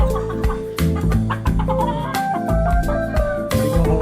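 Game fowl stags (young roosters) cluck and squawk in a noisy chorus before feeding, several birds calling over one another with bursts of sharp, overlapping cries, loud and close.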